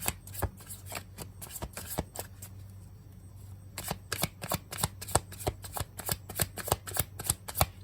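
Tarot cards being shuffled by hand, a steady series of sharp, close riffling flicks that pause briefly near the middle, then resume faster, with no talking.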